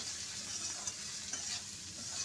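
Okra and potato with spices cook in a pan over a medium flame, with a quiet, continuous sizzle and faint, soft stirring scrapes and no talk.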